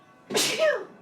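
A single sharp sneeze bursts out close and loud, a quick breathy explosion that trails off.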